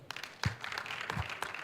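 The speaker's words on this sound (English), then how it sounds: "I think she deserves a round of applause" Scattered applause from a women's conference audience for a speaker, a few separate louder claps standing out over a thin, uneven patter of hands, fairly quiet and brief.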